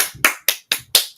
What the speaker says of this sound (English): The studio is clapping.